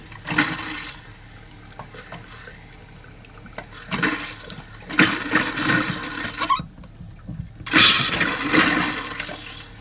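Water runs from a travel trailer sink faucet into the drain trap, a steady rushing gush that comes and goes in several surges, up close, with no voices.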